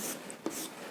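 Chalk or marker strokes on a board during a maths lecture on permutations and combinations, a brief scratchy scribble with no talking.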